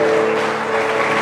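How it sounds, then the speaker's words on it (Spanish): A church congregation applauds during a sermon, steady clapping spread across the room with a faint sustained tone beneath it. "Señor, te damos un aplauso porque tú regresarás"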